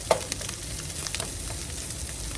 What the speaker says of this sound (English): I'm just letting that garlic roast there a little bit